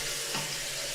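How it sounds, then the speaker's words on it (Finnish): Water running from a tap in a Finnish cabin, a steady close splashing gush that stays even and loud from start to finish. "Hanasta tulee myös vettä."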